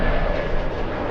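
A JetBlue airliner coming in to land at LAX in gusty winds, giving a brief, steady, broad jet roar with no talk.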